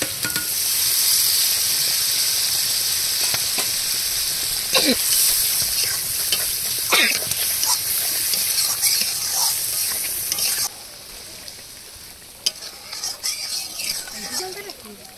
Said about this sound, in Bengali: পনিরগুলো দিয়ে আর 2 মিনিট কষিয়ে নেব।